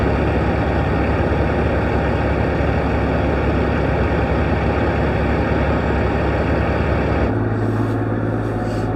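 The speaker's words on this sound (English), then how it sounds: "Boy, you can sure tell we're in a truck stop now" Trucks idle and rumble in a truck stop parking lot on a cold night, a steady loud low engine drone filling the whole stretch, its tone shifting slightly near the end.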